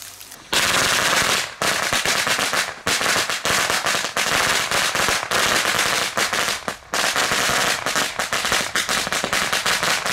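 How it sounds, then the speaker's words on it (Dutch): A long string of firecrackers bursts in rapid, crackling succession, loud and close, with a few brief gaps in the barrage. "Nou, als we toch aan het knallen zijn, Titano."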